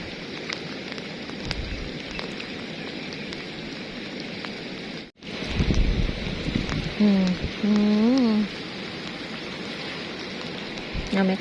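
Steady rain patters on surfaces during lift-net fishing in the countryside, continuous and close. The hiss cuts out briefly, and a voice speaks over the rain partway through.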